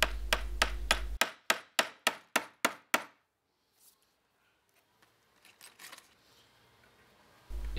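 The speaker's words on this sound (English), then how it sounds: "give it a couple of light taps until it sticks in the wood" A hammer drives nails into wood with a quick series of about nine sharp, loud, evenly spaced blows, followed by a near-silent pause and some faint handling noise.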